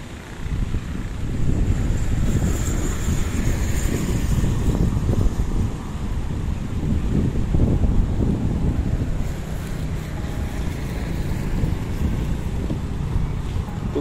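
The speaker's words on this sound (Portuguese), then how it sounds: "Hoje o vento tá muito forte, tá?" Strong gusting wind buffets a DJI Mini 3 drone's microphone as it flies above the boardwalk of Arapiraca, a loud continuous low rumble and roar with no speech.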